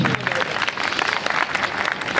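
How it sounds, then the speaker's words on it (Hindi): A small audience at a private residence applauds during a pause in a ghazal concert. The clapping is lively and uneven, with a brief voice at the start. "तो इस विराम के लिए थोड़ी सी गड़गड़ाहट"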